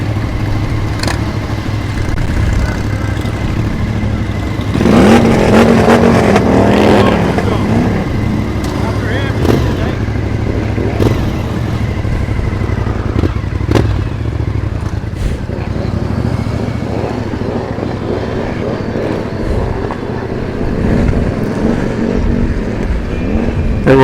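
Motorcycles pull away together at the start of a charity group ride in Ottawa, a Honda CBR 500R and a Harley among them, engines droning and revving nearby over steady wind noise, with voices talking throughout.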